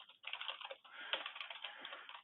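Rapid, steady typing on a computer keyboard, with dense soft key clicks and a brief pause near the start.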